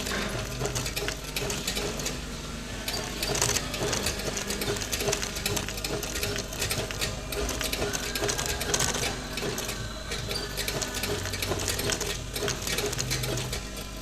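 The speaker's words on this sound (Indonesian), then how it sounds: "Sekarang kita tinggal menjahit dulu ininya ya" A sewing machine stitches material for 2 cm wedge sandals, its rapid mechanical clatter running close and continuous throughout with no talking.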